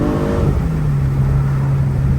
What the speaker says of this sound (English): I want to show you guys how it does with the aggressive upshifts and downshifts